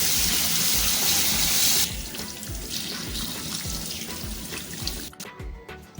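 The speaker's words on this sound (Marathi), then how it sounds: "मटण आपल्याला स्वच्छ धुवून घ्यायचं आहे." Raw mutton washed by hand under a running kitchen tap, with a steady splashing rush of water and wet handling thuds; the flow eases after the first couple of seconds and fades near the end, without talk.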